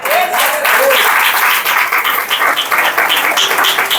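Church congregation applause during a family worship service, loud, sustained clapping from many people filling the room, with a voice faintly under it.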